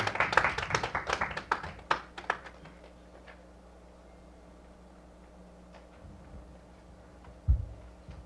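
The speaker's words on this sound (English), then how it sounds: "Let's clap for him." Audience clapping for a speaker at a church gathering, a burst of handclaps in the first two seconds that quickly thins to scattered claps, then near silence with a faint room hum and one late thump.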